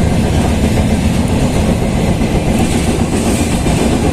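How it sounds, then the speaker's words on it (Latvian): A train on the Riga–Gulbene line in Latvia rolls steadily along, its continuous loud rumble and rattling wheel noise filling the interior without pause. "braucam ar vilcienu Rīga-Gulbene"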